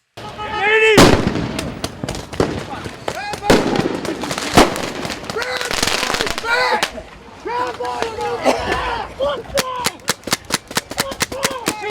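Fireworks set off during a street clash between Antifa and Proud Boys in Portland crack and bang repeatedly, with loud sharp blasts and rapid popping bursts amid shouting crowd voices.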